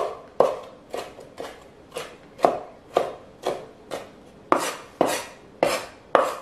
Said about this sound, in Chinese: 我们再用刀轻轻的切几下，给它切碎一点点